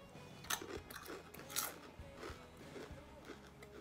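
Crunchy Munchpak corn snack hoops with a barbecue, Frito-like flavor being chewed close up, a run of crisp bites and crunches in a steady rhythm with no talking.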